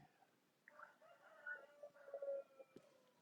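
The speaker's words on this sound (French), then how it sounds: "Ça chante comme le coq." A rooster crows faintly in the distance, a few drawn-out calls rising and falling over a quiet background.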